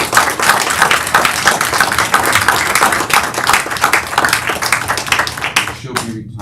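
Applause breaks out at a board meeting honoring a retiring colleague, a dense room-filling patter of clapping hands lasting about six seconds before tapering off abruptly at the end.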